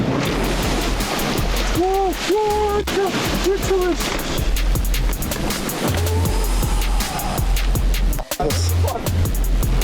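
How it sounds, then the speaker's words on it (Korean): Strong ocean waves break over rocky shoreline on a windy fishing outing, a steady loud surf roar with low rumbling pulses, while someone talks over it. "파도 넘어옵니다"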